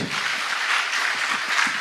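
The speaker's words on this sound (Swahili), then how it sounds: "Pigia makofi." A room of listeners claps in a brief, even burst, a soft, continuous patter of many hands with no voices on top.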